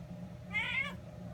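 A single short, high kitten meow rises once in the middle of a quiet moment, soft and close, with low background hum around it.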